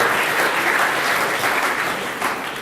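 A full audience applauds award winners at the SAPSA 2018 awards ceremony, a dense, steady wash of many hands clapping together, sustained and fairly loud throughout.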